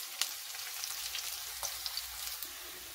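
Whole garlic cloves and onion frying in a pan for a broccoli and shrimp mash, a soft, steady sizzle with a few faint pops, quiet and close.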